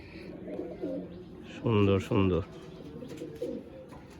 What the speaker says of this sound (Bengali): গোলা লাইনের পায়রা।